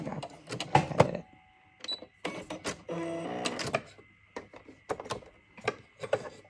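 Brother SE 400 embroidery machine stitching a 4x4 design, rapid mechanical whirring and clicking in bursts with brief motor whines and short pauses, close by.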